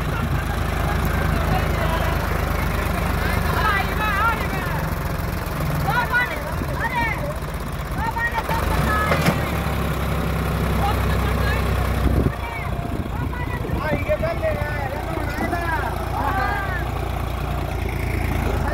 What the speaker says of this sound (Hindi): उसी रो को उसी ट्रैक में जो ये ट्रैक्टर चला रहा है सोनालिका का DI-35